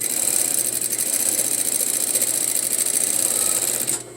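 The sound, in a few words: sewing machine stitching a straight line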